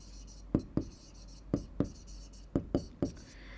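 Pen writing a shopping list of milk, curd, ghee and buttermilk on paper, a series of distinct close scratchy strokes and taps in an uneven rhythm.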